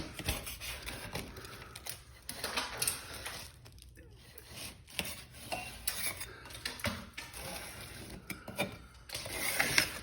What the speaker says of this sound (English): You see how easy that peels off.